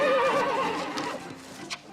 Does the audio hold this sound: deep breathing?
no